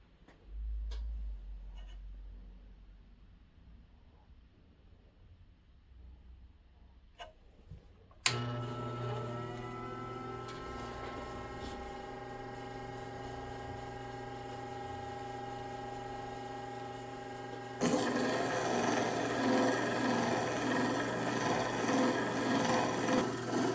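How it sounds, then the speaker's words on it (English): A diamond flat lap machine spinning up with a 1200 grit disc to polish a stone, a steady motor hum and whine with a louder grinding rasp joining partway through, close and continuous. "now I have the 1200 grit disc, the blue disc. So now we will go ahead and use that to put even a higher polish on this stone"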